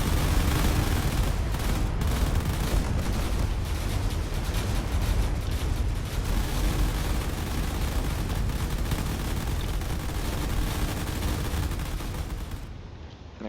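A cruiser in the video game Drone Wars firing its weapons nonstop, a dense, loud roar of gunfire and blasts that lasts the whole time before easing off near the end, with no talking.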